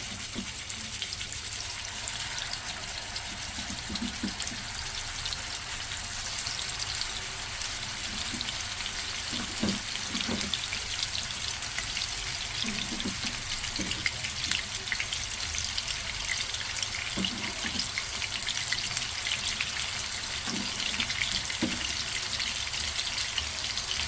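Marinated chicken pieces fry in hot oil in a pan over high heat, giving a steady, fairly loud sizzle and crackle throughout with occasional louder pops and spatters.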